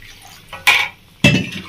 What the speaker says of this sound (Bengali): আমি দিয়ে দিচ্ছি গরম জল